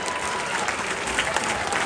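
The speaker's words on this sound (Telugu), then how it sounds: "ఒకసారి ఆయన గట్టిగా చప్పట్లు కొట్టండి" An audience claps loudly, a dense, continuous burst of applause at close range with no other sound standing out.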